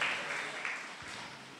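A church congregation clapping loudly during worship, a dense, close wash of applause that stays full and steady for the whole short stretch.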